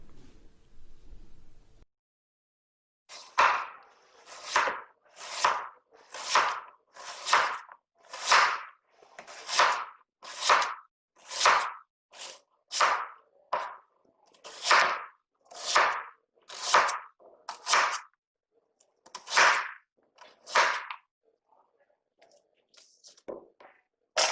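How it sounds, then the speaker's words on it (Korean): A knife chops radish pieces for nabak kimchi on a cutting board, about twenty sharp, evenly spaced close thuds in a steady rhythm after a short quiet start, no voices. "무의 경우는 3등분한 뒤 일정한 크기로 자르면 됩니다"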